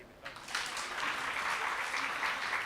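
Applause from a seminar audience after a magic trick, a steady crackling patter that swells in after a brief quieter moment and holds evenly to the end.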